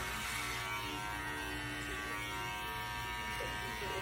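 An electric hair clipper fitted with a number 3 guard trims a beard, giving a steady, close, continuous motor buzz that runs unbroken throughout.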